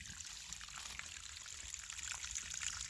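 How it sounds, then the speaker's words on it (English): Water from a spring seep trickles into a creek, a steady faint outdoor wash of running water with no voices. "And it comes out of that seep there. That's the spring."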